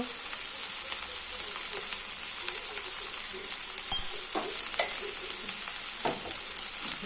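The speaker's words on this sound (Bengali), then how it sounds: "মশলাটাকে দিয়ে ভালো করে এবার কষাবো" Spices with coriander and cumin powder sautéing alongside katla fish head, a soft steady sizzle with occasional spatula scrapes and a small knock, close and unhurried, no talking.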